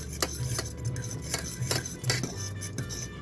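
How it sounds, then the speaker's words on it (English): A scallion slicer machine in a kitchen makes light, irregular clicks and metallic taps over a soft rubbing background, fairly quiet and close. "I was checking my scallion slicer machine."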